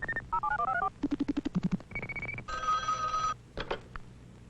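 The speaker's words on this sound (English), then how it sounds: "The time from the moment dialing is completed to the moment the called number rings" 1960s telephone network signals: a run of electronic tones and beeps, rapid pulsed dialing clicks, then a sustained ringing burst and a couple of short rings, alone with no talk.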